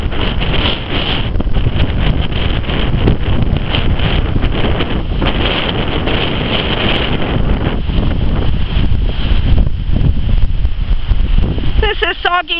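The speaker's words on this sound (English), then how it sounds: "we are just starting to get another snow streamer come in across the lake, and the wind is bitterly cold." Bitterly cold November wind sweeps off Lake Huron at Southampton as a snow streamer moves in, roaring steadily into the microphone with heavy buffeting throughout, close and loud, easing slightly near the end.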